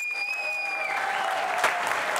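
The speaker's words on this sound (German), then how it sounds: "dann wird der Applaus jetzt gleich noch viel lauter" A crowd at a fan talk event claps to welcome the new head coach, steady dense applause building slightly louder, heard after a fading tonal hum.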